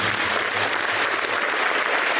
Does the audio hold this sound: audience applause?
yes